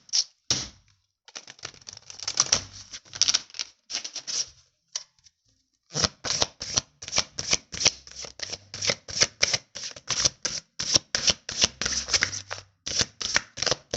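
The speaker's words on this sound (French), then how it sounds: "J'ai tout le temps les cartes qui glissent avec ce jeu" Oracle cards being shuffled by hand, a long run of crisp riffling and flicking bursts with a brief pause, then steady rapid repeated shuffles, close and fairly loud with no voices.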